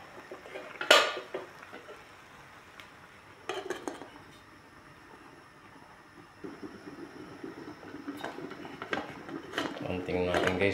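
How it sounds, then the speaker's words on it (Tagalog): A lid set over a pot of fish soup with mustard leaves, with sharp metallic clanks and rattles followed by a low bubbling simmer, under a speaking voice. "Takpan muna natin para bumaba."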